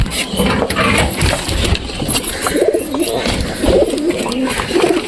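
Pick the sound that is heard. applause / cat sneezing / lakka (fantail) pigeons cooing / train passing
lakka (fantail) pigeons cooing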